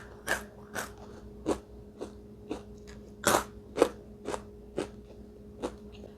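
Close, crisp crunches of a small crunchy snack with plenty of kaffir lime leaves being bitten and chewed, about a dozen sharp bites in an uneven rhythm, loud and alone without talk.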